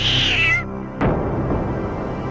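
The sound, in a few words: cartoon cat meowing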